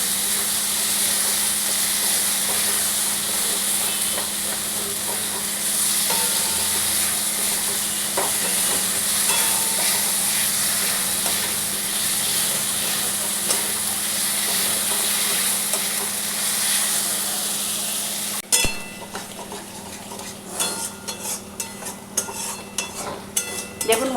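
Onion, ginger and tomato fry in oil for a masala, giving a steady close sizzle and hiss with occasional stirring scrapes, then clattering utensil taps near the end.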